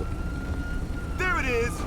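Ambulance siren in the LSPDFR police mod for GTA V, a wailing tone that rises and sweeps in over steady background game noise with a low hum, fairly close and loud for under a second.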